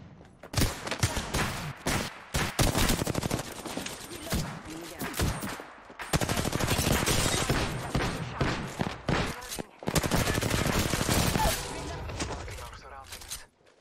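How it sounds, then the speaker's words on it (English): Apex Legends gunfire on Nintendo Switch, loud rapid automatic bursts and heavy impacts in long volleys separated by brief silent gaps, with a voice speaking briefly amid the shooting. "I'm spotted, taking fire."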